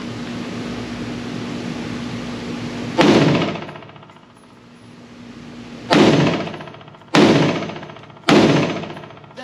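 Four loud, sharp rifle shots from a Springfield Hellion 5.56 ring out at a range, spaced a few seconds apart, each with a bright crack and a ringing decay over steady background hiss.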